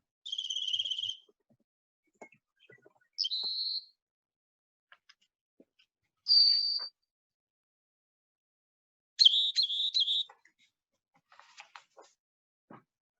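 A series of high, thin bird calls in short bursts, four separate phrases spaced by silence, some trilled, with faint clicks between them.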